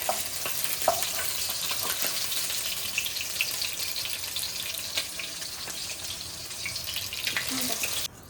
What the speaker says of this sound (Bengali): মাছ তুলে নেওয়ার পরে ওই তেলেই একটু কালো জিরে ফোড়ন দিয়ে দিলাম।